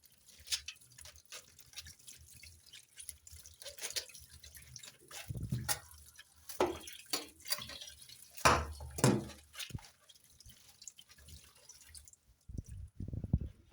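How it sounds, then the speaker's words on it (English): Tap water runs and splashes over kale leaves being washed under a faucet, with intermittent drips and bursts of spray coming close and fairly loud, no voices. "Just make sure that you're washing your stuff, running water."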